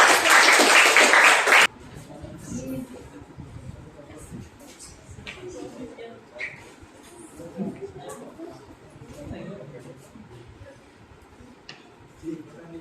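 A classroom breaks into a short, loud burst of applause for a student group, ending abruptly after under two seconds, followed by quiet room noise, light taps and distant talk.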